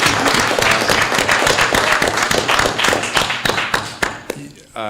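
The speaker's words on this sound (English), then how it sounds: "I do actually want to ask for a round of applause for my good friend Peter Navarro" Audience applause for Peter Navarro at a threat briefing in Los Angeles, loud dense clapping from a crowd close by that thins and fades out near the end.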